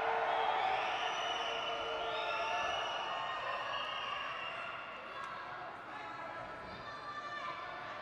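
A home crowd cheers and roars steadily through a judo bout at the European Judo Open in Belgrade, loud and sustained from start to finish, easing slightly midway, with an announcer talking over it.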